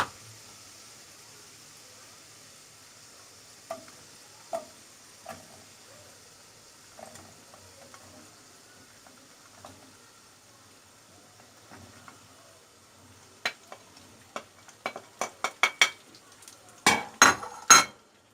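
Dates tipped into melted butter and stirred in a pan, with faint scattered clinks at first, then a quick run of sharp utensil taps and scrapes against the pan building toward the end, no voices.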